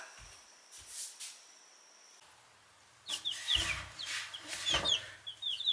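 Young Delaware chicks peep with high, thin chirps, and a few soft clucks follow after a quiet stretch, close by over faint background noise.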